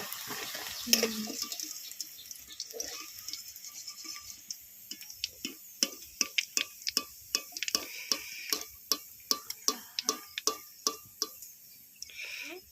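Chicken pakoras fry in oil with a soft, steady crackle, punctuated by a regular series of sharp clicks and taps from a utensil turning them, fairly close.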